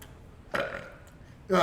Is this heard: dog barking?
no